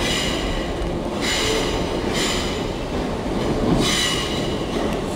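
A Merseyrail Class 508 train pulling into a station, loud steady rumble of wheels on rail with repeated high metallic squeals rising and fading over the roar, close by and continuous.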